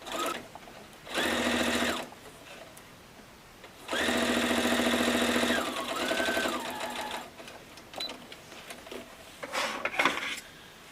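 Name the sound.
sewing machine stitching table runner pieces together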